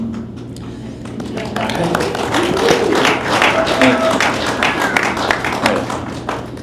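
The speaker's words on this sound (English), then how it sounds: "clapping for both First Things and America" An audience at a Catholic debate event claps for the event co-sponsors, scattered sharp hand claps building into moderate applause while a speaker keeps talking over it.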